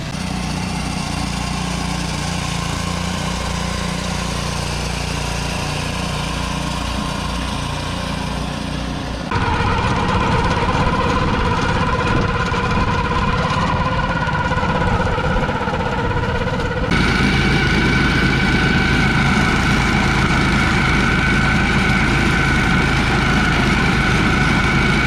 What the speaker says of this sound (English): Aeration process has begun.